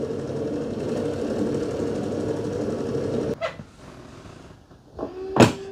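A Dreame X40 Ultra robot vacuum's base station hums steadily, then drops off the mop pads with a heavy clunk, followed by a louder, sharper clunk a couple of seconds later.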